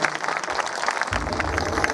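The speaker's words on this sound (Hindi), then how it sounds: "आप लोग जोरदार तालियां बजाएंगे।" Audience clapping loudly during a devotional Bhagavat Katha musical sermon, a dense steady wash of many hands with a low drone continuing underneath.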